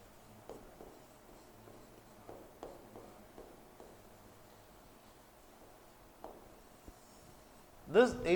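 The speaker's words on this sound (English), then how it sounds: "I will write it here." Marker or chalk writing on a board, with soft scratchy strokes in short bursts and scattered taps, faint and near, followed by a louder rustle at the very end.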